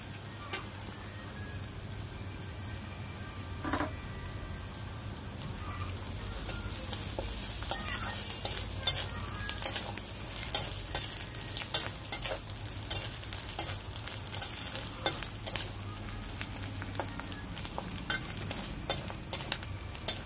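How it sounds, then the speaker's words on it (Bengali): Grated coconut is fried with browned onion and garlic for a stalk-greens dish. A soft, steady sizzle runs underneath while spatula scrapes and taps grow busier and more frequent through the second half. "এখন ওর মধ্যে দিয়ে দেবো নারকেল কোড়া।"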